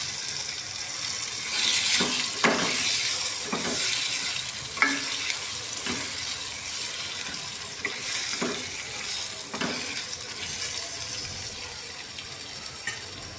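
Chopped tomato pieces sizzle in a pan for a drumstick tomato curry, a continuous frying hiss broken by repeated scraping stirs and a few soft knocks, moderately close, with no talking.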